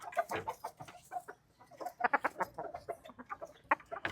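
Chicken pullets cluck in a steady run of short, bright calls, several birds overlapping at close range with brief pauses between bursts.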